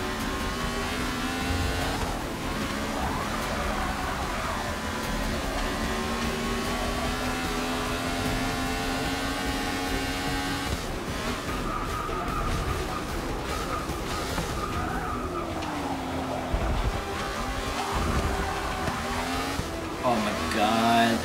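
A 1960s Grand Prix race car engine in Forza Motorsport 6 revs and shifts through rising and falling tonal sweeps, with tire squeal at moments and someone talking intermittently over the steady engine noise.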